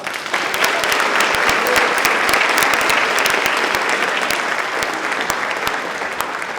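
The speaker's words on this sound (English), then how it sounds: "Please give her another round of applause." Sustained applause from a rally audience, a dense, steady wash of many hands clapping that holds at full strength throughout and eases only slightly toward the end.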